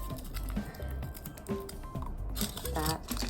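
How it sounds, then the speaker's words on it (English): Strips of tinfoil are crumpled by hand into small beads, making brief crinkly rustles and taps close by, mixed with intermittent speech. "crumple it up"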